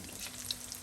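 Marinated chicken deep frying in oil for chilli chicken, a brief, even bubbling sizzle with a couple of small pops, heard close and without talk.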